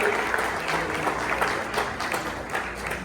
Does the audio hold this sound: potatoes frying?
no